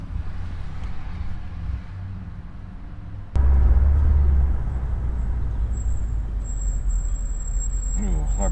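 A big vehicle's air brakes hiss sharply, then a loud engine rumble takes over with a high squealing whine, close by.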